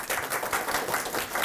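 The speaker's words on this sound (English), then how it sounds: "So let's give her a round of applause." Applause from an audience at a birthday celebration event, a brief burst of many hands clapping at moderate distance, fairly faint.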